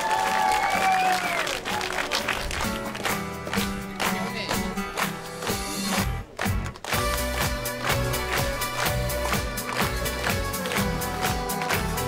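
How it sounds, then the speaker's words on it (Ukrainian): Applause and crowd noise at an outdoor karaoke event on a town square, with clapping mixed into loud backing music and sustained tones throughout. "Борису оплески."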